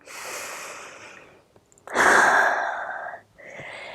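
Deep breathing during a cardio yoga flow: a softer breath, a brief pause, then a strong, loud exhale followed by a lighter breath, all close with no talking.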